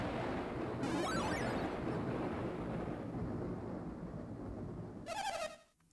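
Rain and thunder in the Golden Sun video game, a steady dense downpour wash with low rumbling throughout, brighter crackling bursts near the start and near the end, then an abrupt drop to quiet.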